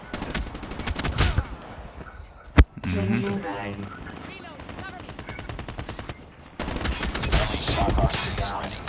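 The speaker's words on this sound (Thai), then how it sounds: "ไอสัตว์เอาปืนลูกซองฆ่ากูเนี่ยนะ" Video game shotgun fire: a single sharp blast stands out mid-clip amid bursts of loud gunfire and rapid clatter, with a player talking excitedly throughout.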